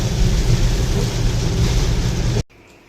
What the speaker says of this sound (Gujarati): તો મિત્રો વરસાદની સ્થિતિ તમે જોઈ શકો છો અત્યારે